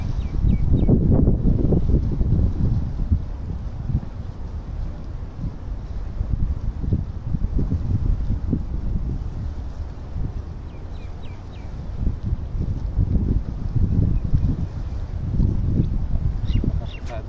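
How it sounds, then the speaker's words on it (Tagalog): Strong headwind buffeting the microphone while tenkara fishing, coming in loud, irregular gusts of low rumble that rise and fall across the whole stretch. "Nakasukado yung hangin, kaya hindi tayo makahagis na gusto"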